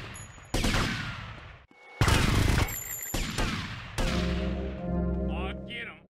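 Gunfire during a police station attack in GTA, with bursts of sharp rapid shots broken by brief pauses, loud and close, followed by a droning tonal sound at the end.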